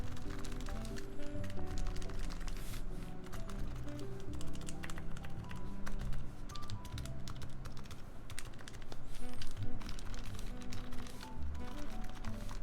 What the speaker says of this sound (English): You might hear a little bit of that like springy sound